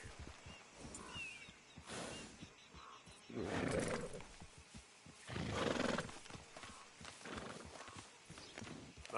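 A horse in Red Dead Redemption 2 snorts and whinnies in two loud bursts over soft, steady hoof clops.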